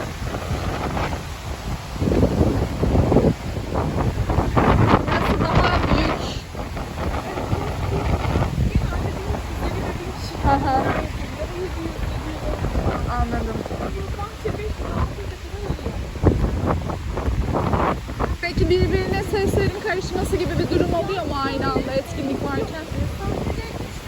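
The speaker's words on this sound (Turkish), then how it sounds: "Şu an çok rüzgarlı." Strong gusty wind buffets the microphone with a loud, rumbling roar throughout, while people talk over it in Turkish.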